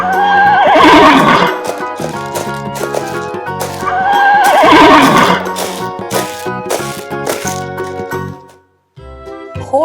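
Horse neighs and whinnies twice in loud, wavering bursts with clip-clop and jingling mixed in, close and dominant, ending with a brief gap.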